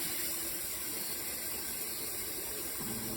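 A SimPure Y7P-BW countertop reverse osmosis filter purifies water with a quiet, steady hiss and faint electrical hum that runs evenly, with no other sounds.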